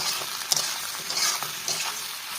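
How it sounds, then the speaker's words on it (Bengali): Flat beans fry with turmeric and salt in a hot pan, a steady close sizzle broken by a few light stirring scrapes of a spoon. "দিচ্ছি হলুদের গুঁড়ো আর লবণ। এবার এটাকে একটু নাড়বো, হালকা নাড়বো অল্প"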